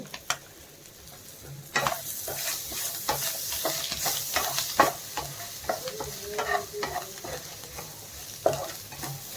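Egg roast is stirred in a hot pan after coriander leaves go in, with a steady sizzle under repeated scraping strokes and a few sharper knocks of the spoon against the pan.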